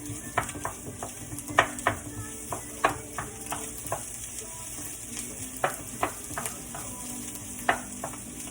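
Finely sliced red onions frying in a pan over a thin base of oil, a steady close sizzle broken by frequent short stirring scrapes and clicks.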